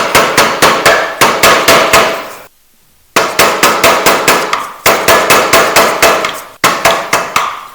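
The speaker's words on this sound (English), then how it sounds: "Another tap with our hammer." Rapid, loud hammer taps on a 1973 Honda SL125 with no spark ring out close by in quick bursts of several strikes each, separated by brief pauses and one longer silence.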